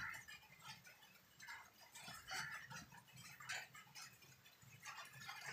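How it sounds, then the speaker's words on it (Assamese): Birds call from the wooden roof of a house, a run of short, clucking, chirping cries repeating every second or so at moderate loudness over a soft, noisy background. "চৰাই মাতিছে,"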